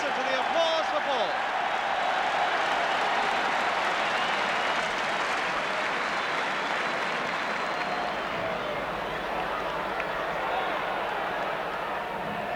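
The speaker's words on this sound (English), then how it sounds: "just listen to the applause for Ball." A football stadium crowd at Arsenal versus Manchester United applauds Alan Ball as he leaves the pitch injured, a broad, distant roar of clapping sustained throughout beneath a commentator's voice.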